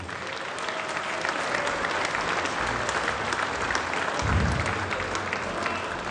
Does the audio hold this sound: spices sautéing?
no